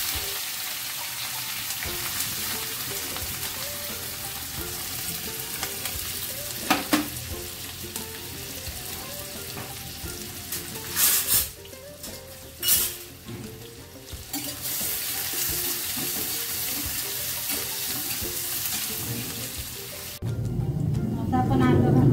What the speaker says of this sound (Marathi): आता आपलं तेल तापलंय. जराशी मोहरी घालायची, जिरे घालायचे, मिरची घालायची